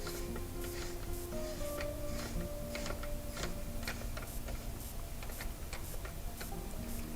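A nut is tightened onto the axle of a garden hose reel, giving a steady run of close, sharp ticks and light ratcheting clicks at an even pace over a low background hum.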